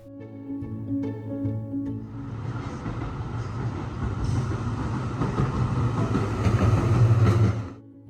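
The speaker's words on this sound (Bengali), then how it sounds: "সেই রাস্তা দিয়ে কিন্তু ট্রামও চলে মাঝখানে" A tram rumbles past on a Melbourne street, its low rolling noise swelling over several seconds and fading at the end, with steady traffic hum beneath.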